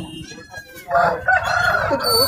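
Rooster crows at an outdoor rooster market, one loud nearby crow rising and holding after a quieter start, with faint background murmur.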